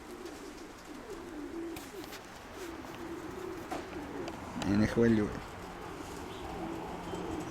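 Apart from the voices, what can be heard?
pigeon cooing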